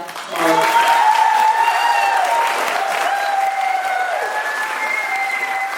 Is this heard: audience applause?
yes